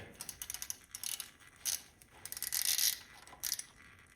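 An 8mm ratchet clicks in quick bursts while loosening a transmission filter bolt on a Ferrari F430, the rapid pawl ticking near and crisp with short pauses between strokes.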